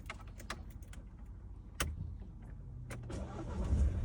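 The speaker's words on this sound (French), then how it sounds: "Donc je vais commencer par démarrer le véhicule." A Mercedes C-Class 180d AMG Line with a 116-horsepower diesel engine cranks and starts, a sharp click followed by the engine catching and settling into a steady, rising idle rumble, heard up close from inside the car.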